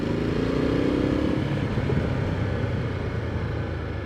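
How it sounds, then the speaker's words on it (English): A Ducati Multistrada 1260S fitted with a Termignoni full race exhaust, baffle installed, holds a steady, deep engine rumble that stays loud and close throughout, with no voices over it. "with that Termignoni full race exhaust system, I've got the baffle in, but it sounds fantastic"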